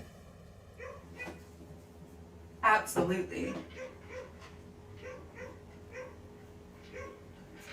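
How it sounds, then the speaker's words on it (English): Distant dogs bark and yip intermittently in the background while a person speaks briefly up close. "Anytime that there's anybody outside, the neighbor dogs start barking."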